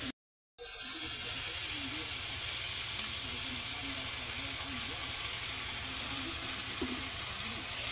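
Ground pork sizzling in a hot pan after fish sauce is added, a steady close hiss that carries on without a break after a short silent start, with faint voices murmuring beneath it.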